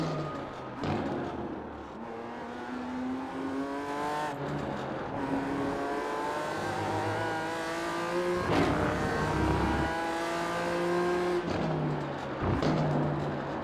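BMW M4 G82 GT4 race car in iRacing at Indianapolis Road course, its engine and exhaust rising and falling through upshifts and downshifts in a steady, close chase-cam drone with no voices.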